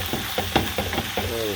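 Ground meat, onion and garlic frying in a pan for lasagna, stirred with a few scraping strokes over a steady close sizzle, with a brief voice near the end.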